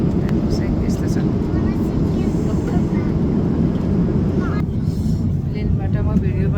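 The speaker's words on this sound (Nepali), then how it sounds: "प्लेनबाट म भिडियो बनाउँदैछु।" Steady loud roar of an airplane cabin in flight, a dense continuous engine and air rush with no breaks, heard close from a seat inside.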